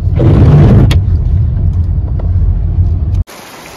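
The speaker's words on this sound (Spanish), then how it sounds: "Y empezó a llover amigos" A loud, steady broadband rush of rain close by in Nogales, with a sharp knock partway through before it cuts off abruptly.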